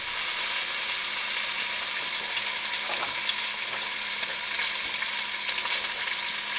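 A pork chop with barbecue sauce sizzling in a pan, a loud, steady frying hiss with faint crackles, heard close and alone with no voices.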